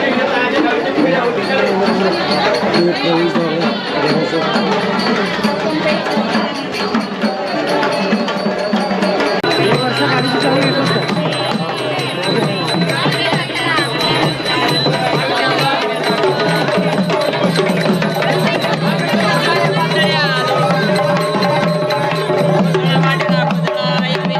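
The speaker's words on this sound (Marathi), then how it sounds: "गर्दीमध्ये आवाजाचा प्रॉब्लेम आहे." A noisy pilgrimage crowd at a Shakti Peeth shrine in Pune, dense chatter from many voices all around at a steady high level, with closer talk mixed in throughout.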